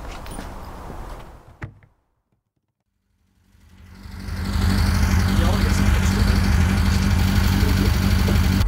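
A Bond Bug car's engine idles while warming up before its first drive, starting as a rough mechanical sound, dropping to near silence, then swelling into a loud, steady, close idle hum.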